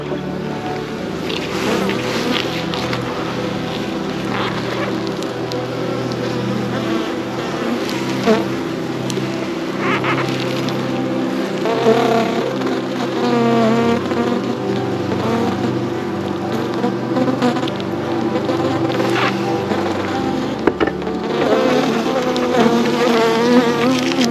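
Dense honeybee buzzing swarms steadily around an open hive during a frame-by-frame inspection of new bees, close and continuous throughout with no talk.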